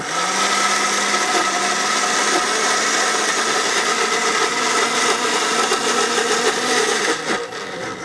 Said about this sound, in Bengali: অবিশ্বাস্য, অবিশ্বাস্য একটা ব্লেন্ডার